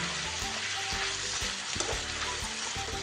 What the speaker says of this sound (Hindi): प्याज और चिकन साथ में ही फ्राई हो जाएंगे।